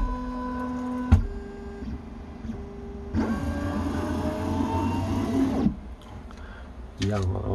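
Ping270 3D printer moving its axes during manual bed leveling, whining stepper motor runs of a few seconds each with rising and falling tones, separated by quiet gaps and clicks, while someone talks.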